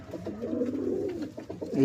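Tournament pigeons give low, rolling coos nearby, several soft gurgling phrases in a row, growing a little louder toward the end.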